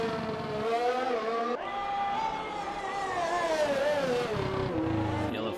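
A Mercedes race car in a racing video game at Monza, its engine note climbing through the gears in rising sweeps with brief drops at each shift, loud and close, with a faint voice in the background.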